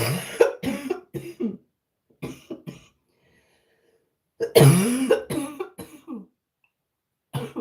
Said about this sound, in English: I just hate the coughing.